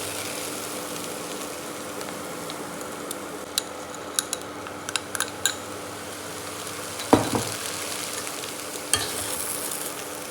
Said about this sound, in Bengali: ডালিয়াটা আর ডালটা ভালো করে এটা ভেজে নেবো যাতে মশলাটা ভেতরে যায়